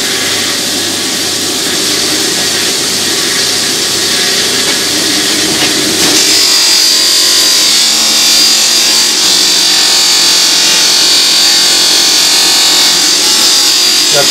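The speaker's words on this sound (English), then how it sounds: "We'll load the buffing wheel up with some polish." Buffing wheel loaded with polish stripping loose, flaky chrome from a part, a steady high-pitched motor whine with abrasive grinding that shifts tone partway through and keeps droning close and loud.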